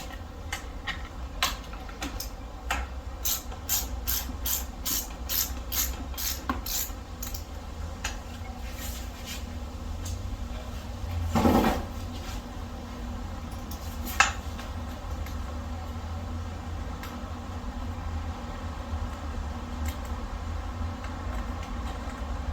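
A nut is worked off a Wunderlich brake lever on a 2020–2025 BMW S1000XR/M1000XR, with quick regular ratchet-like clicks close up, then a scrape and a single sharp metallic tick over a steady background hum.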